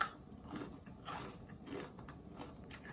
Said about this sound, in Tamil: எவ்வளோ மொறுமொறுன்னு இருக்குது பாருங்கள்.